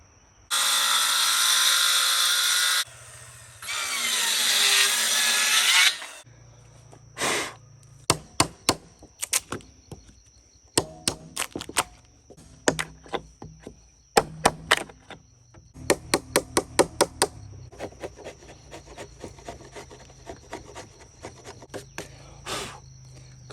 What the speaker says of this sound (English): I'm just going to adjust my saw to the depth of that cut